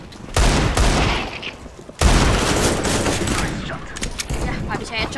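Desert Eagle pistol shots fired in Counter-Strike: Global Offensive, two loud sharp blasts about two seconds apart, each followed by a dense burst of overlapping gunfire and game noise that continues to the end.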